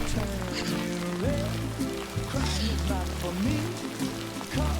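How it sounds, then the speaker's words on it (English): Steady timefall rain pours down in the Death Stranding 2 video game, a continuous hiss of falling water layered under melodic game music and shifting tones. "Why are these people just like hanging out in the rain, getting rained on with timefall?"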